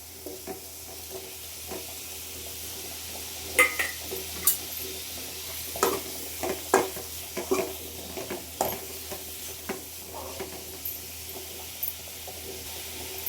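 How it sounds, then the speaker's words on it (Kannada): Tomatoes go into a pan of frying onions for a Karnataka-style egg curry, with a low steady sizzle under repeated sharp scraping and clinking stirring strokes, close by and without speech. "ಇವಾಗ ಟೊಮೊಟೊ ಹಾಕ್ತೀನಿ."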